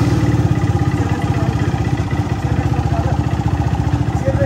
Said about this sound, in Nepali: बाइक स्टार्ट भइसकेको छ